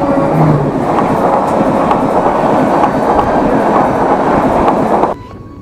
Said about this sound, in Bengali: এখানে কিছুক্ষণ মানে ট্রেনটি দাঁড়িয়ে রয়েছে